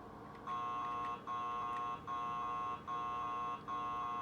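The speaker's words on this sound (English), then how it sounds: "Hear an alarm." An electronic alarm in the video game Marathon repeats a steady pulsing tone in regular on-off bursts, moderately loud with no voices over it.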